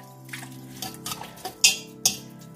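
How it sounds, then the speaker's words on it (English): White onion being stirred and broken up in a pan, heard as a few soft scrapes followed by two sharp metallic clinks of a utensil against the pan. The sounds are close, isolated and free of talk. "Add my white onion in there. Get that all broken up."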